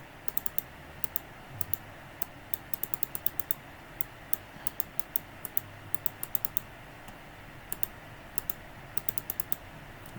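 Sharp mouse and key clicks from someone playing a video game, coming in quick irregular bursts and occasional doubles, close and fairly quiet over faint room hum, with no talking.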